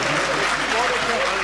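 Audience applause at a mushaira poetry gathering in Bhiwandi, a steady dense wash of clapping from a large crowd, with faint voices mixed in.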